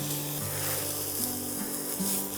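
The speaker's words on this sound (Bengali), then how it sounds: "এটা ভালো করে একটু ফ্রাই করে নিচ্ছ যাতে মশলার কোনো মানে সেন্ট না থাকে" Spices for a Bengali banana flower chop fry in a pan, giving a steady, close sizzle with scraping rubs from stirring throughout.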